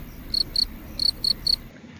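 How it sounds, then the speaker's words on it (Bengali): A cricket chirps in short, shrill bursts, five quick trills spaced in loose pairs over steady low background hiss, with no voices. "ঝিঝি পোকা ঝিঝি পোকার ইংরাজি ক্রিকেট"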